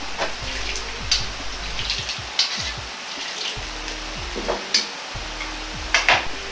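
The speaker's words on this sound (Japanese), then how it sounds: "さらにかき混ぜて粘りのある音に変わればカラメルができました。" Caramel is stirred in a pan for black fried rice, with wet, sticky scraping and bubbling sizzles and sharp clinks of the utensil against the pan, steady and close.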